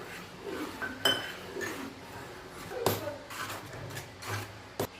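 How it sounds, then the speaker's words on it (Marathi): Bajra flour batter being whisked in a bowl, with soft scraping swishes broken by a few sharp clinks of utensil on the bowl, close and fairly quiet. "असंच आता सगळं टाकून हे पेटून घेऊया"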